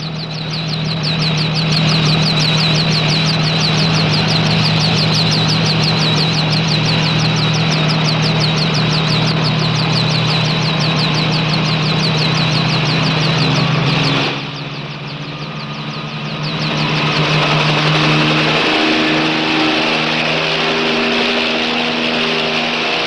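Helicopter engine running loud and close with a steady drone and a rapid rotor pulse, briefly dropping away before returning at full strength.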